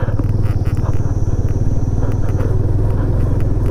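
A Yamaha FZS25 motorcycle engine riding in first gear on a mountain trip from Pokhara to Jomsom, a loud, close, steady throbbing rumble that pulses evenly throughout.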